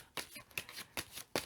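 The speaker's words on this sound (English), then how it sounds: "I've shuffled and shuffled and shuffled this deck." A tarot card deck is shuffled by hand, four crisp riffling bursts at an even pace, quiet and close with no one talking.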